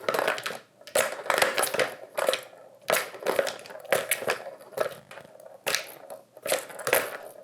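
The Tower of Tracks cat toy, stacked plastic tracks with rolling balls, rattles and clatters in repeated bursts of rapid clicking as it is batted around, fairly close, with short pauses between.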